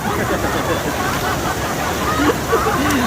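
Malabikbik Falls waterfall roaring steadily at close range, a continuous broadband rush of falling water with a faint voice or two mixed into the wash.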